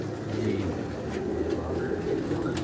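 Sialkoti pigeons in a cage coo in low, throaty, overlapping rolls, close and continuous throughout.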